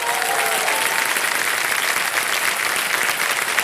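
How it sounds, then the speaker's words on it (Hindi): Studio audience on a TV quiz show breaks into loud, dense applause, a sustained burst of clapping heard alone for several seconds. "तालियां बज जाए इनके लिए।"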